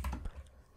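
Brief burst of keystrokes on a computer keyboard while someone types code for an iOS notes app, close and fairly quiet, with no talking.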